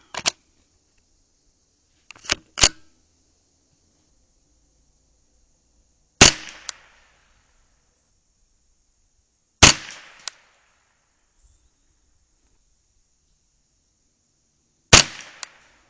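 Six sharp .22 LR rifle shots ring out at a range during a night vision scope test, spaced irregularly with a quick pair early on, each a crisp crack with a short tail, separated by near silence.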